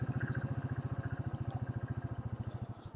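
A motorcycle engine idles steadily on a mountain road in the Himalayas, a close, even low thump that pulses regularly with no other sounds around it.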